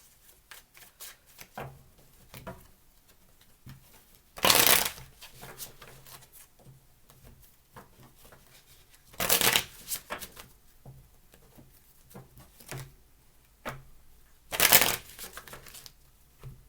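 Tarot cards being shuffled in three loud riffling bursts spaced several seconds apart, with softer handling taps and card slides between them, close up and with no talking.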